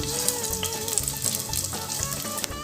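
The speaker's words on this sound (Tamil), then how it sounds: "எண்ணெய் சூடானவுடனே இந்த சோம்பு நம்ம போட்டுக்கலாம்." Fennel seeds spitting and sizzling in hot oil for a Tamil paruppu urundai kuzhambu, a dense steady crackle with sharp pops throughout, close and fairly loud with no talking.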